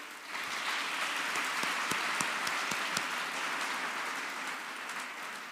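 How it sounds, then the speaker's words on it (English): Audience at an awards ceremony applauds the honorees, a moderate, even patter of many hands with a few sharper individual claps, sustained and then easing slightly toward the end. "let's please give them a round of applause as well."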